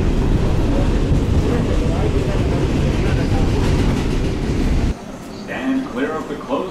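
A New York City subway train at its last stop, with a loud, heavy rumbling roar up close that cuts off abruptly into a quieter platform ambience with voices.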